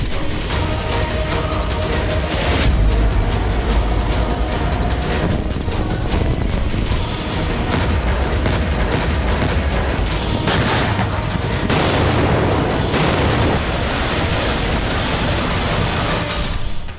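Blasts from an Israeli strike in Syria: a loud, continuous roar of explosions with repeated sharp bursts and rumbling across the whole stretch, with no voices.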